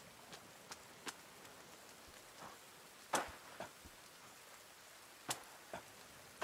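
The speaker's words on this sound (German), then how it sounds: "es regnet" Rain falls in the video game The Forest, a faint, steady hiss dotted with a few sharper ticks of drops landing nearby.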